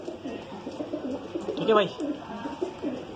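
A male Punjabi pigeon coos in soft, low, repeated throaty pulses close by, while someone speaks briefly over the calls.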